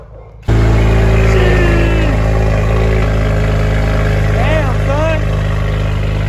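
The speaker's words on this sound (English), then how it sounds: "let's start this car up" A BMW M3 engine fires up suddenly after a quiet moment and settles into a loud, rumbling idle with a few quick revs, close by, with someone speaking.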